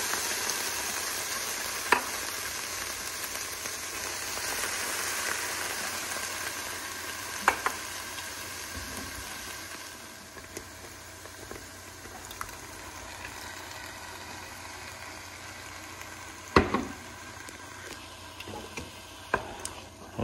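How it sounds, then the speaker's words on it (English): Tomato sauce with sautéed onions and spaghetti sauce heating in a pan, a steady soft sizzle throughout with a few sharp clicks and scrapes of a spoon stirring, no voices. "We'll stir this around and heat thoroughly."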